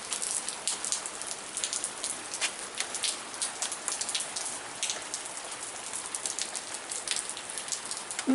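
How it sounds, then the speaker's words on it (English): Rain falling outdoors, a close, steady patter of drops striking surfaces, continuous and fairly loud for the whole stretch with no speech. "All week long it threatened to rain and it never did. And today we finally get something."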